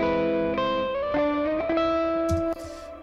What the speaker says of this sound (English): I needed to get that amazing sound with the biggest reverb and the biggest decay possible